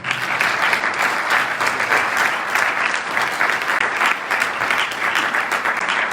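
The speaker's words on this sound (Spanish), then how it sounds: "Bueno, pues yo creo que le damos otro aplauso" An audience claps steadily and evenly at a book presentation during a Lenten lecture series, a dense, sustained round of applause lasting several seconds with no talk over it.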